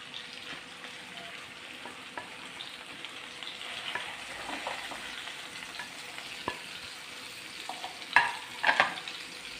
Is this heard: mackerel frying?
yes